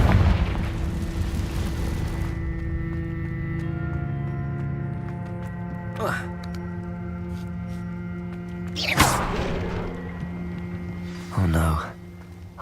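A Confringo fire spell bursts in Hogwarts Legacy, landing as booming blasts over a steady game backdrop, with sharper impacts at intervals and a voice calling out nearby.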